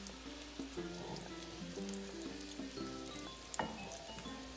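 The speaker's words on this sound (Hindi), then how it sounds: "अब ये देखें ज़बरदस्त फ्राई हो रहा है" Fish cutlets sizzle and crackle steadily in a hot pan on a lowered flame, a continuous close frying hiss with a faint tonal hum beneath and a brief louder pop near the end.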